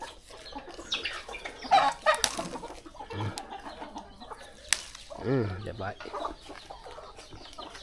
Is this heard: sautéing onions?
no